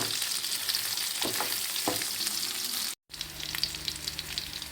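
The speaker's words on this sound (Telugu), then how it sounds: "ఈ టైంలో కనుక కరివేపాకు యాడ్ చేస్తే ఓ 2 మినిట్స్ ఇలా ఫ్రై చేసుకుందామండి." Curry leaves fry in hot oil in a pan for chicken fry, a steady close sizzle and crackle with a few stirring scrapes, briefly cutting out for a moment before the sizzling resumes.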